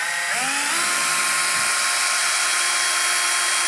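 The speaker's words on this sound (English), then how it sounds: "I have a little tiny drill bit in my drill. I'm going to pre-drill" A power drill with a small bit spins up with a rising whine and then holds a loud, steady high-pitched drone, close by, pre-drilling into a wall stud.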